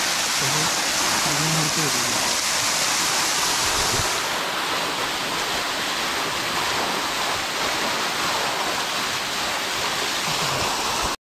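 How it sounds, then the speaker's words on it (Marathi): Small waterfall on a low-flowing forest stream at night during a jungle camping trip, a steady broadband rush of water running throughout, with a person talking briefly over it near the start. "हे बघा धबधबो."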